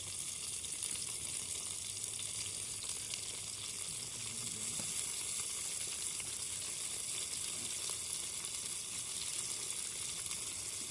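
Tomatoes, green chilli and ginger garlic paste sizzle in butter in a pot at an outdoor riverside camp cookout. The hiss stays steady and close throughout, with no talking.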